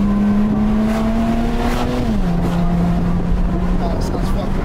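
BMW 335 engine after walnut blasting, running with a steady loud drone that dips slightly in pitch midway, continuous and close throughout, with voices chattering underneath.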